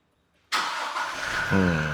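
A Mahindra Bolero engine cranks and catches, roaring to life loudly after a quiet moment and then settling into a steady running hum.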